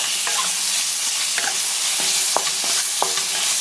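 Beef and onions with oyster sauce cook in a hot pan, a constant loud sizzle broken by scattered clinks and scrapes as the mixture is stirred.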